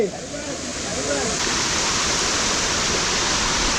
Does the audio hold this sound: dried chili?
no